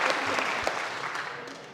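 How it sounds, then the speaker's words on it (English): A school assembly audience gives brief, steady applause, a soft wash of many hands clapping at an even level that fades slightly at the end. "So I created applause for myself."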